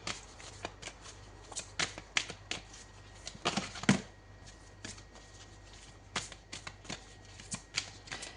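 An oracle card deck is shuffled by hand, giving close, soft riffles and flicks in irregular bursts with quiet gaps between them and no talking.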